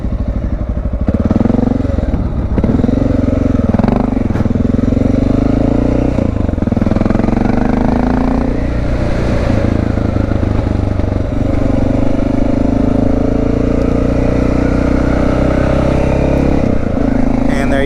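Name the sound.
motorcycle accelerating and shifting up through gears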